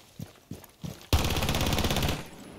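Three quick, separate C75 Auto pistol shots ring out in Rainbow Six Siege, followed by a loud, sustained burst of rapid automatic fire lasting about a second, close and dry, with no talking.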